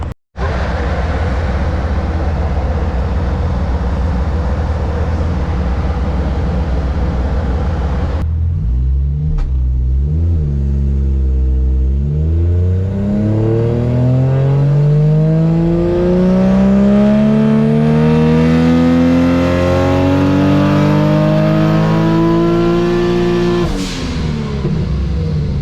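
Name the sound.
Toyota Supra Mk IV engine revving on dyno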